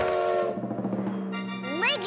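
Cartoon train whistle sound effect in a children's letters show, a short rising, tooting whistle at the end that follows a low hum and musical tones.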